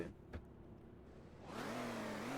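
Car engine in the video game MTA, driven with a steering wheel set, idling low and then revving up steadily toward the end as throttle is applied.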